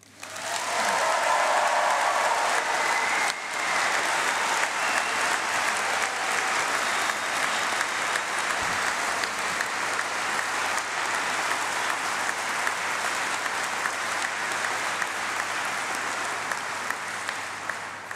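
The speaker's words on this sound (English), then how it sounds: "Please can we get a massive round of applause for your brand new doctors here today." Large congregation audience gives sustained loud applause for newly graduated doctors at a university summer graduation ceremony, steady dense clapping filling the hall for the whole stretch without any speech.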